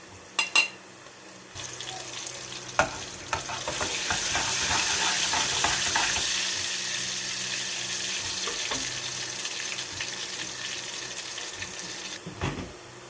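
Garlic added to hot oil with softened onions sizzling steadily in a pan, opening with a few sharp clatters of stirring and ending with another, the frying hiss loud and close throughout.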